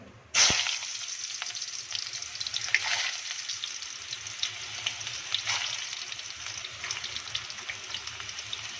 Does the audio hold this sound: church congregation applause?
no